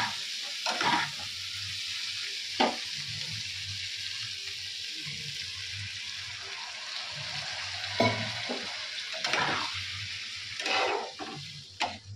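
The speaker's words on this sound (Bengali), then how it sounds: "আমি এখন জলটা ঢেলে দেবো, একটু ঝোল ঝোল করবো না" Cauliflower and potato curry sizzling in a pan as water is poured in, a steady frying hiss broken by a few bursts of sputtering and occasional stirring, close by and fairly quiet.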